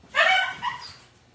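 A dog gives a short, sharp yelp followed by a brief whimpering whine after being swatted by a cat indoors, loud and close, heard alone.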